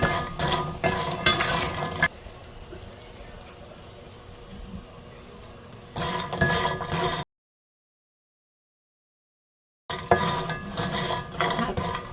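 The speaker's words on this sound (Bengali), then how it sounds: "আর এখন অনবরত নেড়ে লাল লাল করে ভেজে নিতে হবে।" Lentil dumplings (bori) sizzle and fry in oil in a pan over medium heat, with loud scraping and clattering as they are stirred continuously, a quieter steady sizzle between bursts and a brief silent gap.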